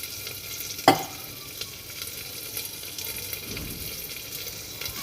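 A spoon stirs egg curry in a pan, opening with one sharp clack against the metal, then a quieter bubbling sizzle with light scraping, heard close up with no voices.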